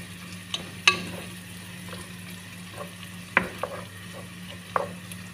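Bacon and sausage sizzle and fry in butter in a pan, a steady close sizzle broken by a few sharp clacks and scrapes of stirring.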